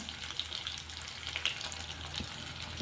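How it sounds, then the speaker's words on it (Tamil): Onions and dried red chillies sautéing in oil for onion coconut chutney give a steady, close sizzle and crackle, with light stirring clicks and no talk. "வெங்காயம் சைட் பை சைடாக வணங்கட்டும், மிளகாயும் வணங்கட்டும்"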